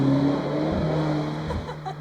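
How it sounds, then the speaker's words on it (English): Cars speed past on a road right beside a nature trail in Malta, a steady mid-distance traffic rush with a couple of louder passing swells, no talking. "you can hear, even now, the cars speeding from right beside us"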